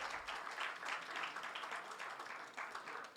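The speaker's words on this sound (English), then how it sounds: "Let's give applause for Sister, a round of applause for Amina" Gathering at a mosque celebrating Imam Hassan's birthday during Ramadan applauding together, a soft, fairly distant patter of many hands clapping steadily for the whole stretch.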